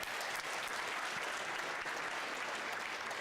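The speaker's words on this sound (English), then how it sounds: "Yeah, applause." Audience applause at a convocation ceremony, a dense, steady wash of many hands clapping that fills the room without pause, loud and continuous throughout with no voices standing out.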